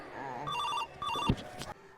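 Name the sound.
phone ringing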